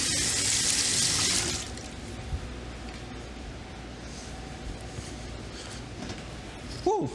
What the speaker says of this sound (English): give my hands a quick wash